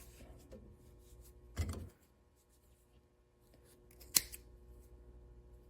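Two short scissor snips cut through fabric, separated by quiet pauses in an otherwise still room.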